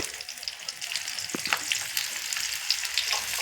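Chopped onion fries in plenty of oil in a wok, giving a steady, close crackling sizzle with small spattering pops throughout.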